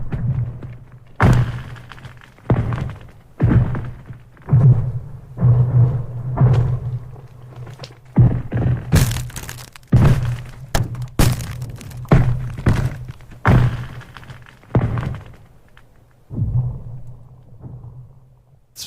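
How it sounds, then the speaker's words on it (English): A series of sharp cracks and deep thunks from shifting, cracking natural lake ice, some with ringing, laser-like zaps, arriving irregularly every second or so with a low hum beneath. "naturally occurring lake ice, that when it shifts and cracks, it makes these like sort of sci-fi laser sounds"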